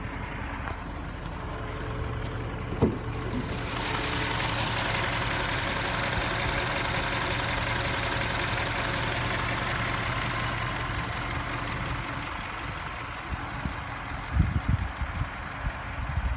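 A 2018 Audi S6 4.0-litre twin-turbo V8 idles steadily with a low, even rumble, lasting throughout with a few faint knocks and shuffles near the end.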